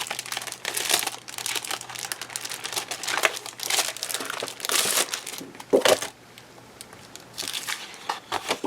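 Crinkly plastic wrapping on a Cricut foil poster board pack is torn and handled, giving near, dense crackling bursts that ease into quieter rustles toward the end, with no talking.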